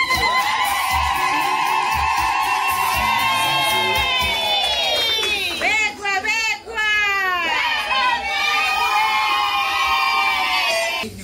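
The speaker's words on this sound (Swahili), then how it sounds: "Makofi na vigelegele." A church congregation at an engagement announcement breaks into loud applause and high, warbling ululation, the trilling cries rising and wavering together over continuous crowd noise.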